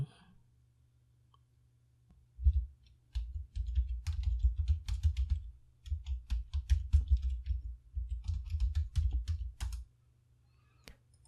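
Computer keyboard typing and mouse clicking while building a course outline in mind-mapping software, a steady run of close, rapid key taps in bursts after a quiet start, with no voice.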